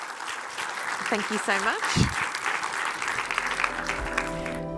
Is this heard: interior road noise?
no